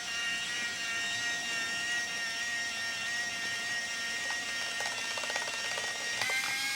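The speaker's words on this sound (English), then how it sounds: "So now it is going to rewind, and we can watch here as it counts back." An Olympus Stylus 120 35mm film camera motor rewinds film with a steady, close whirring hum that runs throughout, with a few faint ticks and clicks near the end.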